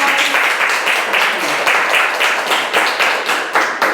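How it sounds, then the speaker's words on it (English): A small audience claps close and loud for a survivor story monologue performer, with individual claps audible in a quick, slightly uneven rhythm running the whole time. "Make sure you give her a round of applause."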